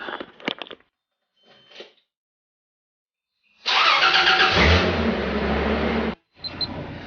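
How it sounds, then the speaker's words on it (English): A car being driven after power steering fluid and a stop-leak additive were added: a couple of brief clicks and thumps, then a loud engine start that settles into a steady running hum before cutting off abruptly, with a short burst afterward. "Let's take it for a drive."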